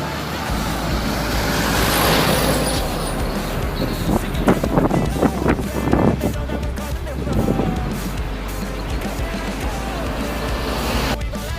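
An El Dipo intercity bus passing along the Lintas Palas road near Pekanbaru, a steady loud rumble of engine and roadway noise with a swelling pass-by in the middle amid wind and traffic.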